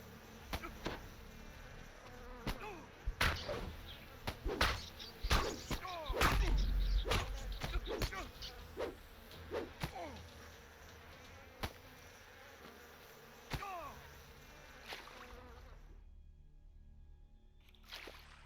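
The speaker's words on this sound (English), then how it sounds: "Bees swarm near their hives." Bees buzzing around their hives inside a cave in the DDO video game, a dense droning swarm with individual insects whizzing close by and scattered clicks, fading into quiet at the end.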